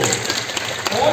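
Audience applause at a launch event for The Big Picture, a steady, fairly close wash of clapping that fills the whole second with no voices over it.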